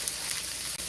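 Chicken and seasoning stir frying in a pan, a steady close sizzle and hiss that runs evenly throughout with only a brief dip near the end.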